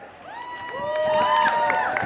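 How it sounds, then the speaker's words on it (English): A pageant audience at a cheese festival cheers and whoops with rising shouts over a building wave of applause and clapping. "Give her a round of applause."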